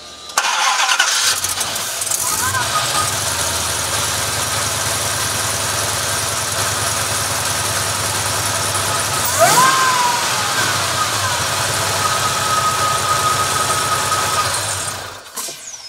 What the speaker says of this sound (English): You gotta love the whine of a supercharged engine.